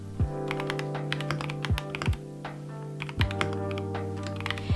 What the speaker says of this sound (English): who doesn't love the sound of a creamy keyboard